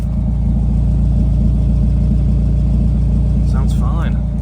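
A 1990s Honda car with a D-Series engine idles steadily, a smooth, even low rumble throughout with a brief voice-like chirp near the end.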